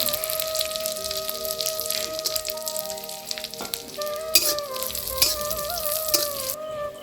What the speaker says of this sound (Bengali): ঘির মধ্যে কাজু কিসমিস একসাথে বেজে নেব